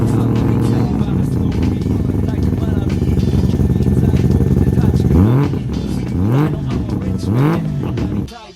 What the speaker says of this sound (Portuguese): O som do rotativo não parece nada no mundo automotivo.